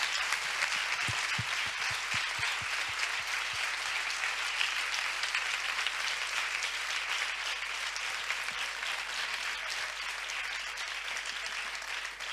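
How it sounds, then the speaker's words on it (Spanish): Sustained applause from a forum audience honoring the event's sponsors at a women columnists' gathering, steady dense clapping filling the room throughout, with a few sharper individual claps standing out near the start. "Un aplauso para ellas por apostar por este foro."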